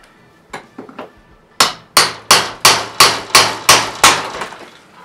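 A hammer knocks out window trim blocks around a double-hung window: a few light taps, then seven loud, sharp, evenly spaced blows, close by.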